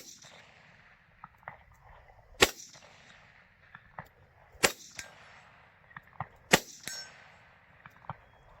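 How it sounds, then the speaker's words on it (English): A Chinese Type 56 SKS rifle is fired outdoors in three sharp, spaced shots, each followed by a metallic clang and faint echo, with quiet rustling between them. "I'm going to take a few shots standing up because I'll show you that even though it's a heavy gun"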